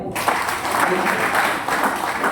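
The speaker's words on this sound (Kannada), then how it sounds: "ಹೊಡಿ ಚಪ್ಪಾಳೆ" Audience clapping at a leaders' meeting in Hubli, a dense, steady wash of many hands filling the whole stretch at moderate loudness, with some voices mixed in.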